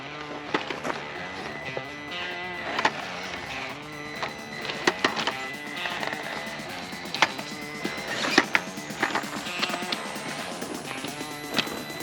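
A Traxxas TRX4m RC crawler fitted with Injora tires, wheels, brass weights and hub extenders driving over an outdoor course: a steady whining motor and gear buzz with frequent sharp clicks and knocks from the chassis and tires bumping over obstacles.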